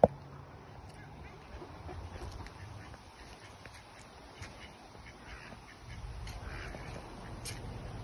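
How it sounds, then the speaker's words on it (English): Ducks quack at a farm in Tannaghmore Gardens, soft repeated quacks scattered over a low outdoor rumble, faint and a little distant. "Got some ducks."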